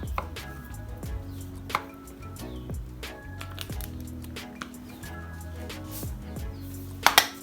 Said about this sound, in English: just take my sausages and cut them into halves.